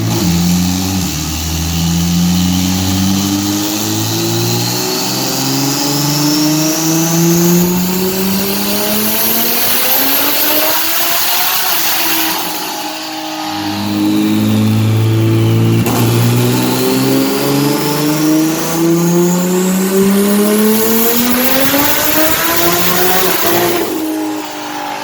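A tuned BMW F80 M3 pushed to 1158 horsepower with new valve springs revs hard and loud, its engine note climbing steeply twice in long sweeping pulls, with a brief dip between runs and no talking.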